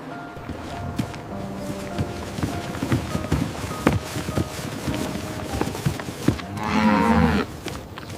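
Wagyu cattle in a barn during conditioning, with scattered hoof shuffles and movement noises, a rising low moo near the end, and steady barn ambience throughout, no talk.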